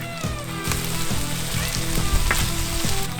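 Perilla oil sizzles loudly in a pan of dakgalbi chicken cooking on a cast-iron lid griddle, with a steady close frying crackle and a few stirring scrapes, no voices.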